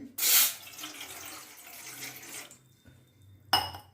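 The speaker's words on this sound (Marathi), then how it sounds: "एक ग्लास पाणी टाका तुम्ही" A glass of water is poured into a small pot on a gas stove, giving a steady splashing rush for about two seconds, followed by a brief clink of metal.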